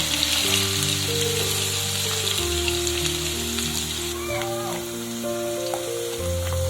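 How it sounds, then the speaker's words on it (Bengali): Potato pieces fry in hot oil, a steady bright sizzle with crackling, while background tones and a brief chirp sit underneath; no talking. "তেলের মধ্যে আমি আলুগুলোকে ভেজে নেব প্রত্যেকটা সবজি আমি একইভাবে ভেজে নেব"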